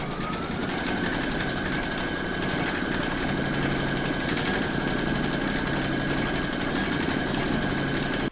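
An embroidery machine stitches quilting on a crazy-patch evening bag in the hoop, giving a continuous, rapid mechanical chatter with a steady hum, even and unbroken throughout, with no talking.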